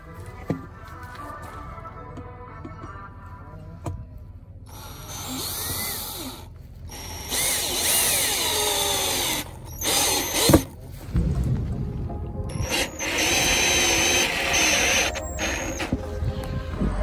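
A power drill drives screws into outdoor benches under repair. Several bursts of whirring motor come close and loud, with quieter handling noises between them.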